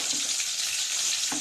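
Continuous crackling sizzle of mustard seeds and fennel seeds frying in hot oil for tempering, close and steady, with a brief louder pop near the end.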